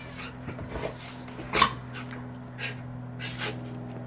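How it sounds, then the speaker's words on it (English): A Belgian dog gives a few soft, scattered barks and whimpers at a cat, fairly quiet and intermittent, with a low steady hum underneath. "No barking at your kitty."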